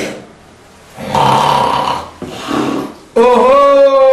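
A person imitates snoring with a few rough, rasping breaths, ending in a loud, drawn-out nasal snort.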